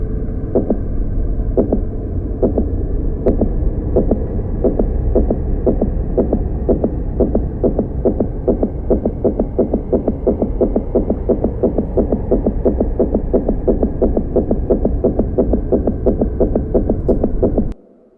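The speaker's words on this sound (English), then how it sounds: "all he was aware of was the game and his own heartbeat" Heartbeat sound effect: a steady run of regular, deep thumping beats over a low continuous hum, loud and close, continuing evenly for the full length with no talking.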